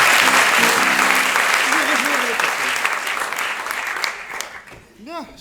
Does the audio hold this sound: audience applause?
yes